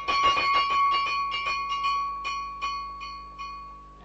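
A small room call bell in an old building, in a Sherlock Holmes radio drama, rings in a rapid series of bright metallic strikes that gradually slow and fade, with no talk over it.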